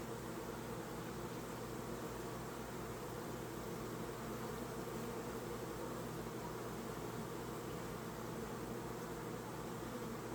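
Dense, steady buzzing of a hive full of honeybees during an open inspection, a loud continuous drone filling the whole stretch without pause.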